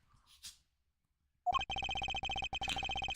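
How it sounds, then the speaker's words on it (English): A phone rings in the Ace Attorney Investigations video game, a loud electronic trill that starts after a short quiet stretch and pulses in rapid repeated bursts, with no talking. "That's my phone."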